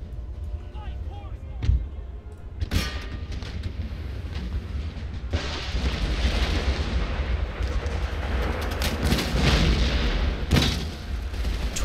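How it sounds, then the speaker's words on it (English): Small fort-wall cannons boom in a large black-powder battle in Empire: Total War, sharp heavy blasts at irregular intervals over a constant rumbling din of battle. "their small cannons on the wall are not very accurate"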